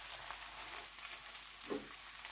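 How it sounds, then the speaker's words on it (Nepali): Ginger and garlic frying with softened onion in a pan while pork with green beans is being cooked, giving a steady, fairly quiet sizzle with a couple of soft stirring clicks and no talking. "अब म यसमा चाहिँ अदुवा अनि लसुन राखेर भुट्छु फेरि एकछिन है"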